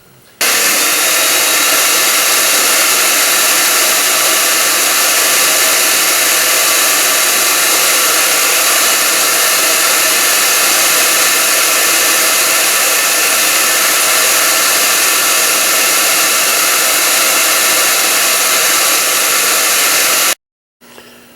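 A power drill runs on a walnut cabinet, a loud, steady high-speed whir like a blower, holding evenly for about twenty seconds before stopping abruptly, with no talking.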